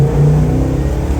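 A 1973 Plymouth Cuda's carbureted V8 pulls hard in first gear on a cold day, a loud, close rumbling roar rising steadily in pitch as it accelerates down the road.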